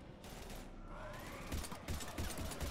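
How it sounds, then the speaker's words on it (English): Video game gunfire in Mass Effect 3 comes as a quick series of muffled shots and mechanical clicks, fairly quiet, with a sweeping tonal effect running underneath. "Shoot him! I'm shooting, I'm shooting."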